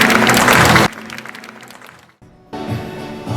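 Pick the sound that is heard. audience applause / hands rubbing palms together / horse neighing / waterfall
audience applause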